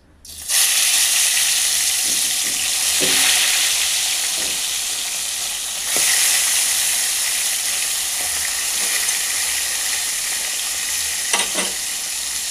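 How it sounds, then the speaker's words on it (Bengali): Bata fish frying in hot oil in a wok, a loud, steady broadband sizzle that bursts up as the fish goes in and keeps crackling close by, with occasional sharper pops and stirring clinks. "এবার আমি মাছটা ভাজতে দিয়ে দেবো।"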